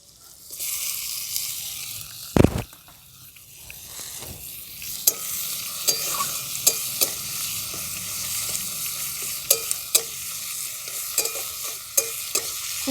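Chopped tomatoes join onions frying in a pan for village-style sambar, giving a sudden loud hiss and then a continuous sizzle broken by regular spoon taps and scraping, near and without talk.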